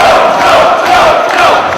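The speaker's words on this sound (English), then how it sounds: "listen to this crowd get behind Joe" A packed Ring of Honor wrestling crowd at The Fifth Year Festival: Finale roars and cheers for Samoa Joe during his match with Homicide, a loud, sustained wall of voices that swells in waves throughout.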